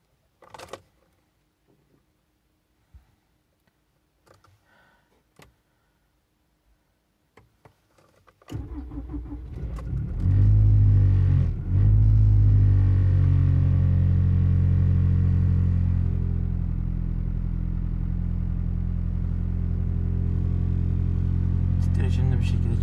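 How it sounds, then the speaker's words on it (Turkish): A 2.0 petrol Toyota Avensis is cold-started at -11 degrees. Quiet clicks and movement come first, then the starter briefly cranks and the engine catches and surges loud before settling into a steady, close idle. "Tek marşta bu şekilde çalışıyor araçımız."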